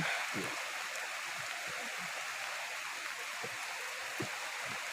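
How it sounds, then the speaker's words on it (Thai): Heavy rain falls steadily and loudly on a goat farm, a dense unbroken wash of noise with a few brief thumps and knocks underneath. "ตากฝนถ่ายวิดีโอ ฝนตกหนัก"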